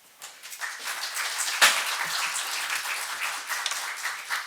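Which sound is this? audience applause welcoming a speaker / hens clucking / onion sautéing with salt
audience applause welcoming a speaker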